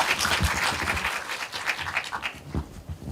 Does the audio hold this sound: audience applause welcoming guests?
yes